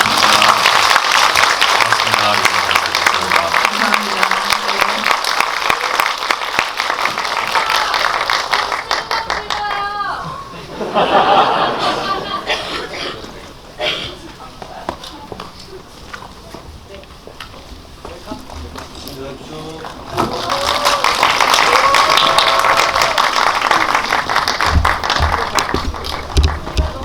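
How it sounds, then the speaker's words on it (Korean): A cinema audience at a special screening Q&A at CGV Wangsimni claps warmly for two actors. The sustained applause from a full house fades to scattered claps and a brief word of thanks, then swells again near the end. "오늘 같이 이렇게 찐 의리를 보여주신 두 분께 박수 부탁드리겠습니다"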